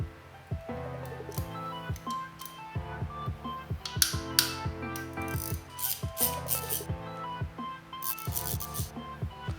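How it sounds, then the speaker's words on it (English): A hand ratchet clicks in quick repeated bursts, close and crisp, as it loosens rod bearing cap nuts on a 4G63 turbo engine, with no talking. "Removing the rod bearing cap nuts."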